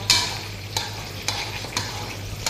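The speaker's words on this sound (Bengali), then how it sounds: "মাছ ভাজতেছি" Fish frying in a pan on a stove, punctuated by five sharp spatula scrapes about half a second apart over a low, steady sizzle, with no talking.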